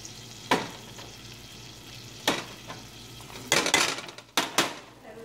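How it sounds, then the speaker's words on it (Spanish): Cheddar cheese melting in a pan for homemade nacho sauce, stirred with a utensil: soft sizzling under several distinct scrapes and clinks against the pan, close up. "He agregado el queso cheddar y ahora lo que voy a hacer, mientras se va derritiendo"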